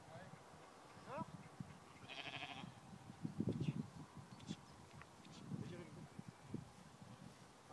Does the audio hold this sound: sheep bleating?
yes